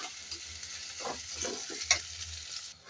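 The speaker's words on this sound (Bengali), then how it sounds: "পেঁয়াজটা কিন্তু ভাজা ভাজা হয়ে গেছে।" Onions frying in butter in a pan give a close, continuous sizzle, broken by a few stirring scrapes, with no talking.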